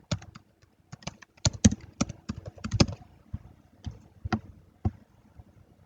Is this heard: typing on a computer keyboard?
yes